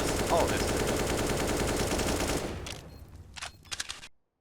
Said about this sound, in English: Spams the last few bullets of that AK away just for good measure.